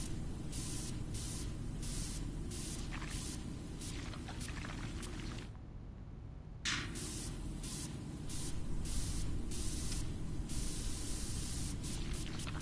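Steady, continuous hiss of a pressure washer spraying in Powerwash Simulator, a near and constant jet broken by one brief pause of about a second before the spray resumes.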